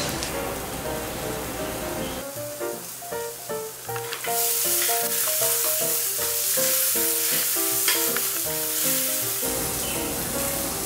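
Diced potatoes sizzle steadily while being stir-fried in a lightly oiled non-stick pan, a constant close frying hiss under light background music.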